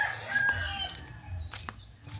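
Chickens on a backyard farm, including a yellow-legged hatch rooster, heard close with clucks and a short crowing call, plus a few sharp bird notes near the end.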